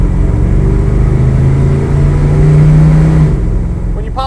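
A 1972 Chevrolet C10 with a 350 V8, automatic, and stock-style mufflers driving down the road, giving a steady, moderately loud engine drone with a brief rise in pitch, heard from inside the truck.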